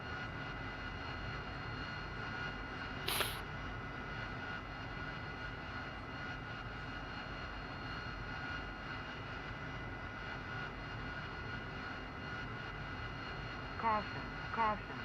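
AV-8B Harrier II jet engine in the DCS flight simulator, a steady droning whine while taxiing toward the runway, with a few brief clicks and beeps over the continuous roar.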